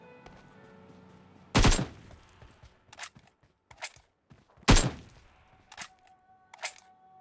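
Gunfire in the mobile battle-royale game PUBG Mobile: two loud, sharp shots early and midway, each followed by several fainter, shorter bursts spaced about a second apart, with no talking.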